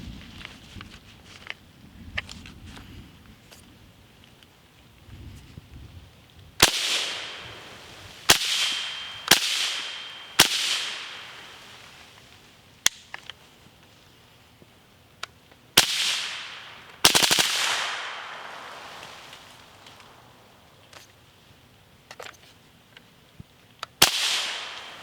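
Suppressed rifle shots from a Huxworks Flow 556 Ti suppressor, fired with a Dorin X-PRT 90 progressive reset trigger using FN supersonic ammunition: a series of sharp cracks, single and in quick pairs, each with a short fading tail, separated by quiet pauses.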